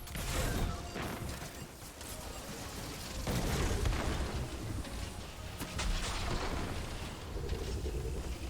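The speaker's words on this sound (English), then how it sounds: "So I threw a grenade there to try to weaken the 2 mini-bosses that spawn." A grenade blast in Destiny 2's Grasp of Avarice dungeon, part of a dense stretch of game combat: booming bursts and mechanical crunches repeat over the whole span at a steady, fairly loud level, with no clear gap between them.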